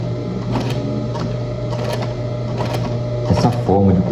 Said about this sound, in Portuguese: forma de costurar suporte de alça